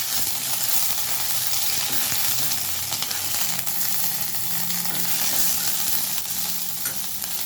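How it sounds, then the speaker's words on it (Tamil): A generous handful of curry leaves fries in oil until crisp, giving a dense, continuous sizzle and crackle with occasional stirring scrapes, loud and close without pause. "ஒரு பிடி கருவேப்பிலை போட்டு நல்லா வணக்கிக்கலாம் கருவேப்பிலை நல்லா மொறு மொறுன்னு வர வரைக்கும் நல்லா வறுத்துக்கலாம்"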